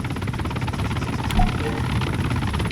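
A helicopter in the video game Arma 3 thrums steadily as a continuous rotor drone with game ambience.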